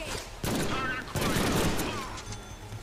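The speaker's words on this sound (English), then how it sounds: "Hey, I just shot that guy" Bursts of rapid gunfire in a Deadpool video game, two loud volleys in quick succession layered over game sounds and voices, close and busy.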